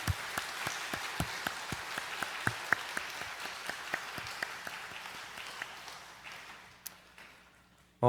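A church congregation claps during a Sunday worship service to encourage an evangelist receiving flowers, the clapping moderate and fairly sparse with distinct individual claps, fading out over the last few seconds.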